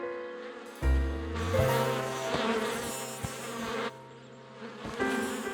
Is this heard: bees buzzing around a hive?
yes